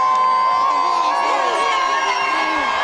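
A large outdoor crowd at the Christmas lights switch-on in Vigo cheers and applauds a city official under the tree, a loud sustained ovation with shouts and whoops close by.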